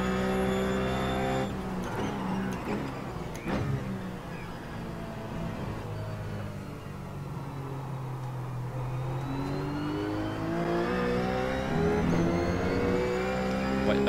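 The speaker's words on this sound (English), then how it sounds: "you will see the car speed up a little bit" Race car in a racing video game, its engine droning and rising in pitch as it speeds up, a steady continuous tone with no talk over it.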